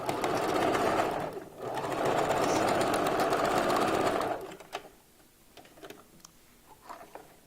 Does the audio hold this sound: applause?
no